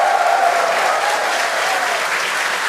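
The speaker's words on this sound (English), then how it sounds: "The crowd here in Hawthorne all went ooh at that first view of the blue flames from the booster." A crowd at Hawthorne reacts to the blue flames of a Starship booster with loud, sustained applause and cheering, a dense wash of clapping that holds steady throughout.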